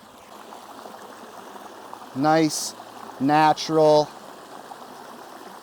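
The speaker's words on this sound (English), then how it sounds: "we have our deeper plunge pool down here with this beautiful boulder waterfall" A backyard boulder waterfall pouring into a deeper plunge pool gives a steady rushing wash of water, with a person talking briefly over it partway through.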